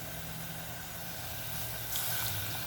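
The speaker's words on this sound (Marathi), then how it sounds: "हे अर्धं भांडं पाणी घालू" Half a pot of water poured into a cooking pot of potato-tomato curry, a faint steady liquid rush that swells slightly louder toward the end.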